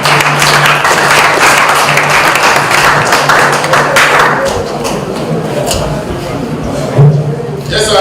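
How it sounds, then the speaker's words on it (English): Audience applause for a panel of judges at a student presentation during a 2022 homecoming event, a dense steady round of clapping that thins out toward the end, with a hum beneath and a thump near the close. "let's give them a round of applause to them"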